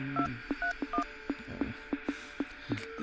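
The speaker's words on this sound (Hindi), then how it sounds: "फोन लगा उसे।" A series of short telephone keypad tones beeps in an even rhythm, each button press a brief electronic blip, fairly quiet with faint background hiss.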